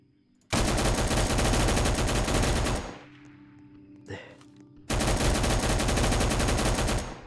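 Automatic gunfire in the Roblox game Rolling Thunder: two long, loud, sustained machine-gun bursts separated by a quieter pause with a single faint shot in between.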